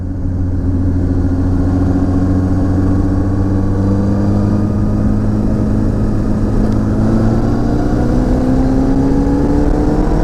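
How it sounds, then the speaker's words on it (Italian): A car engine pulls steadily through acceleration on a road in Veneto, its tone rising smoothly and then shifting up a gear, loud and close with a constant drone and no talking. "accelerazione, alzo una marcia"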